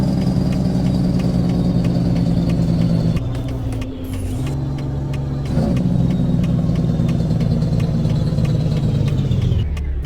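Simulated truck engine in Euro Truck Simulator 2 with the ProMods map, a steady loud low drone running throughout, dipping briefly around a gear change before resuming its even hum.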